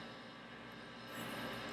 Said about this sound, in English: Every refrigerator needs to be running full speed ahead while we're